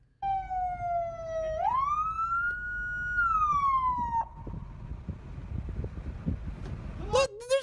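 A police car siren wails in a long rising and falling tone, then cuts off abruptly, leaving outdoor wind noise and a short electronic yelp at the end.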